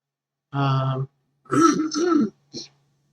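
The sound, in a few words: throat clearing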